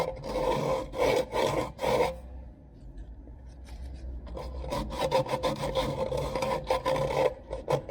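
Sandpaper scrubs out a hole in a plywood part of a Minimax 1100R wooden aircraft, a rapid rhythmic rasping in close bursts, then a quieter pause, then more sustained strokes.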